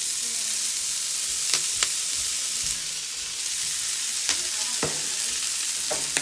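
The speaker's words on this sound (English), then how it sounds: "I'm just gonna cook it down until that squash softens up" Kale and squash fry on a preheated griddle over low heat with a steady, close sizzle. Occasional sharp clicks and scrapes come from a utensil moving the greens, and no one speaks.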